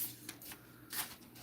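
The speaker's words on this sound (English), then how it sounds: "so you can't really see me shuffling. But I am shuffling." A deck of stiff, hard-to-shuffle playing cards is shuffled nearby, giving two quick riffling bursts of crisp, fluttering card noise, each a fraction of a second long.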